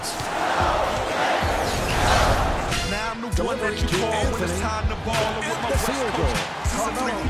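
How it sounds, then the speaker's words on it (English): Arena crowd roar with squeaking shoes and basketball bounces in the video game NBA Live 10, a commentator's voice talking over the noise. "you can always turn the broadcasters off and listen to the otherwise excellent arena and crowd noise"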